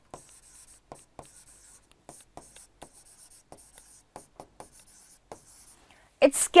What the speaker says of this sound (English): let me write it quickly